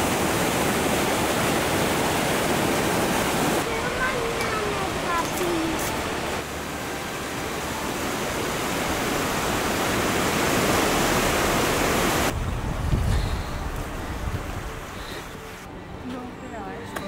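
River rushing in front of a glacier, a loud, steady broadband roar of flowing water throughout, with faint wind.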